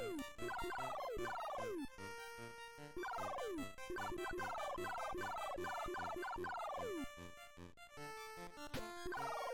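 Bird enemy cries from the NES game Dr. Jekyll and Mr. Hyde, repeated descending chirpy electronic calls laid over loud, steady chiptune music throughout, with no voices.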